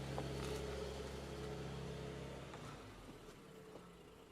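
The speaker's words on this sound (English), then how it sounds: "This is a super mellow idle" Mercedes-AMG CLE 53 Cabriolet (2025) idling, heard from outside the car: a soft, mellow, steady low hum that eases slightly quieter toward the end, with no voices.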